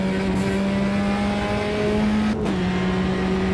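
A race car braking uphill on a circuit, heard from inside the car: a loud, steady engine drone whose pitch drops sharply partway through as the car slows.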